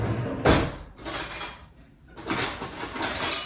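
Metal cutlery clatters and jingles in short bursts as someone rummages through a drawer in a kitchen for a butter knife, with a brief pause before the rattling resumes.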